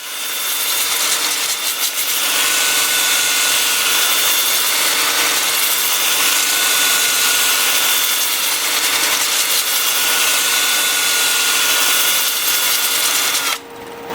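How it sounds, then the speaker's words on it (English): A loud, steady abrasive whir of 80-grit sanding disc against wood spinning in reverse at 350 RPM on a lathe runs without a break, then cuts off abruptly just before the end. "I'm starting the sanding at 80 grit on my 2-inch disc"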